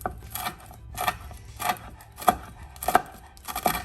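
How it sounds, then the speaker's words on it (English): Five crispy microwave-cooked bacon strips being crumbled by hand, giving a series of close, dry crunching and crackling bursts in an irregular rhythm, with no talking. "I have 5 little crunchy strips of bacon that I'm also going to attempt to crumble up without it going all over the kitchen"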